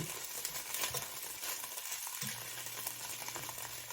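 Tofu sizzles steadily in a hot pan while being stir-fried and browning on its sides, a dense, continuous crackle at close range with no talking.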